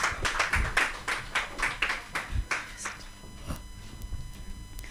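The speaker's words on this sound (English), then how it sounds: "let's give a round of applause to Musa Oyo as he takes the stage" A workshop audience claps together in a brisk, rhythmic burst of applause that starts strong and then thins out into scattered, fading claps.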